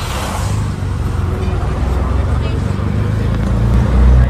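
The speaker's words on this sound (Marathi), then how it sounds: "बसलो आहे रिक्षामध्ये." Rumbling ride inside an auto rickshaw on a road toward Chikhli, with a steady engine drone and road noise that swell slightly near the end; faint background chatter.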